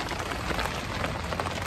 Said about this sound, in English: windy, rainy day here